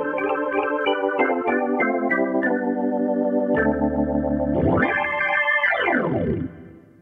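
A Casio CT-X3000 keyboard's organ voice plays sustained chords with a bright, buzzy tone, ending on a held chord that slides and swells before fading out.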